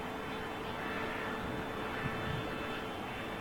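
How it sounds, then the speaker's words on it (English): Iberia Airbus A330 jet landing at London Heathrow Airport, a steady broadband engine roar with rumble, heard at a distance and continuous with no talking. "Iberia 330 just touched down."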